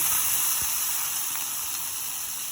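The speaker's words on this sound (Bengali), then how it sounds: "অরহর ডালটা যে ভেজানো ছিল ওটা একটু ভেজে নেব।" Soaked arhar dal fries in a pan, giving a soft, continuous sizzling hiss that fades slightly over a couple of seconds, with no talk.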